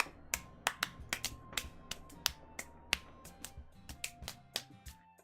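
Sharp hand claps from a Doki Doki Literature Club game stream, a quick uneven run of about fifteen crisp slaps spread over five seconds, close and bright above soft background music.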